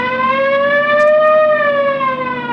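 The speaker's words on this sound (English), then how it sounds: "You want to hit the siren?" A police car siren wails in a steady, loud, sustained tone that rises and falls slowly, heard close and alone with no talk over it.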